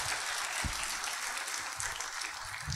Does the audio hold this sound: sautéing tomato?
no